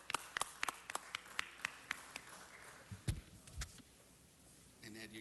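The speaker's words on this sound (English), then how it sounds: "Let's give them a round of applause" Applause from the audience at a city council meeting, a string of sharp separate claps at first, then a quiet gap with faint room noise and a bit of movement near the end.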